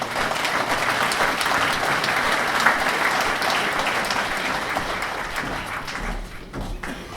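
Sustained applause from an audience at a village-of-the-year award ceremony, dense steady clapping filling the room for several seconds before tapering slightly at the end.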